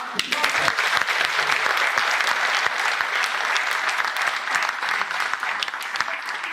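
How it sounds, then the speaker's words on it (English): Audience at a property networking event breaking into applause after a talk, a loud, dense burst of many hands clapping that stays steady and full, with a few voices faintly beneath. "A big round of applause."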